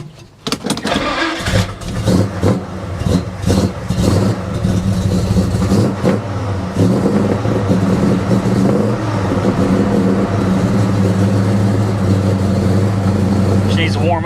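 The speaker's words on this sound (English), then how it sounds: "We're gonna go ahead and fire it up, make sure nothing comes apart." A 1969 Chevelle SS V8 cranks and fires, then runs loud and close with repeated revs that settle into a rough, steady idle; the engine fills the whole stretch on its own.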